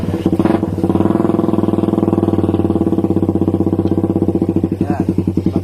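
A Raider 150 motorcycle fitted with a conical GP-style aftermarket muffler revs loudly and steadily up close, its throaty exhaust burbling in a fast regular pulse that holds for several seconds before easing off near the end.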